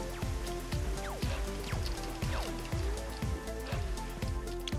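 Steady synthetic rain patter in the video game Dig or Die, with repeated sharp downward-sweeping tones falling at a regular beat, dense and continuous with no talking.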